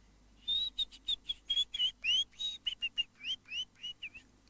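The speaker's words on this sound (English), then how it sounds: "A bird we call the willow warbler." Willow warbler song: a run of about twenty clear, high whistled notes that starts strong and slides downward in a gentle descending cadence, close and alone against faint background hum.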